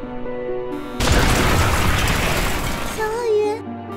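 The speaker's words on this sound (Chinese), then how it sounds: "烟火。" Cartoon fireworks burst in a dense, rumbling explosion that swells suddenly and fades after a few seconds, with soft music before and after.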